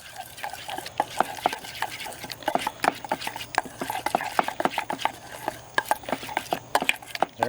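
A spoon stirs and mixes food with jalapeño in a bowl, giving a rapid, irregular series of clinks and soft scrapes, close by and continuous, with no talking.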